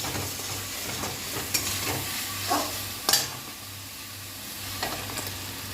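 Cashew and melon seed paste sizzling as it goes into frying spices for paneer, a steady soft crackle with a few stirring scrapes and brief louder pops, close and alone without voices.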